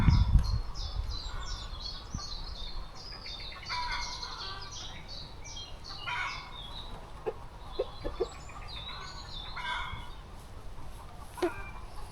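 Chickens cluck and chirp faintly in the distance over a steady outdoor background, with scattered short calls throughout.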